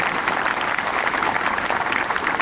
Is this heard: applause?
yes